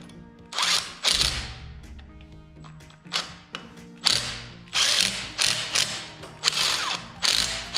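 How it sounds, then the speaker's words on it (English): Ratchet tightening bolts during reinstallation of a part, bursts of rapid clicking that repeat in a rough rhythm of short strokes, close and loud, with no talk. "got the bolts in, got them torqued and tight"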